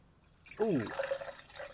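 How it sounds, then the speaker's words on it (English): Water splashes and trickles as it is poured onto an object outdoors near Lake Superior, a sudden close wet gush followed by lighter dribbling, while someone talks over it. "I poured water right on it."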